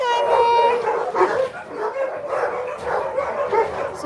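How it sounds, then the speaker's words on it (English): Puppies and dogs at an animal shelter yip, whimper and bark in a busy, overlapping chorus that fills the room, with voices mixed among them. "As you can see, we have our Guyver and all of our little puppies"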